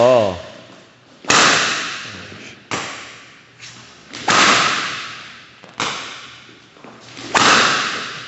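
Several sharp badminton backhand smashes, each a loud swishing crack followed by a fading whoosh, spaced a second or two apart with brief murmurs between.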